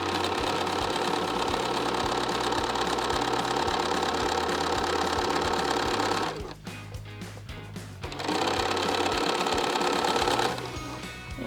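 A sewing machine stitches half-square triangle quilt blocks in steady rapid runs, close and fairly loud, with a brief pause midway before stitching resumes and then stops again near the end.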